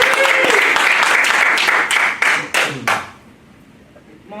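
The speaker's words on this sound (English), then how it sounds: "Round of applause." Room of workshop participants giving a round of applause, dense and loud clapping with a few cheers, thinning into scattered last claps before falling quiet near the end.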